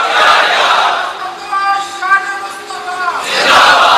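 A large crowd shouts a religious slogan together at a gathering marking the Battle of Badr during Ramadan, loud massed voices swelling at the start and again near the end, with a sustained chanted tone in between.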